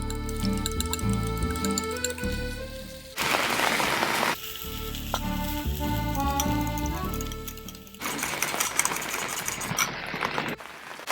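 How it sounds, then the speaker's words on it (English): Sausage sears on a hot griddle with a steady sizzle that swells into louder bursts, mostly heard beneath continuous background music. "I'm going to give my sausage a flip so the other side gets seared"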